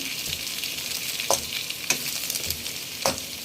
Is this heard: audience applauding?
no